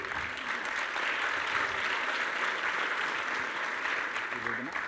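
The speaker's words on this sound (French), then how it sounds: "On peut les applaudir ?" Steady, sustained audience applause fills a conference keynote hall, loud and continuous from start to finish, with a brief voice surfacing faintly near the end.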